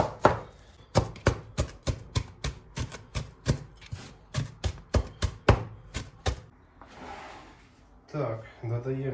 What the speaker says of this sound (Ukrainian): Зараз міленько це все накришую і додаємо у наш фарш.